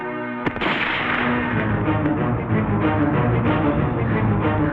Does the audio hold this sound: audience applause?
no